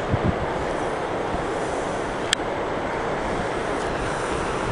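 Steady broadband rushing of a countryside waterfall, water pouring continuously at a constant level with no pauses, a single faint click partway through.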